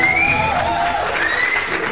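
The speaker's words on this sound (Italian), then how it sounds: "Applausi." A Neapolitan studio audience applauds at the start of a radio talk show, a dense, fairly loud crowd of clapping and cheers with a few whistles cutting through.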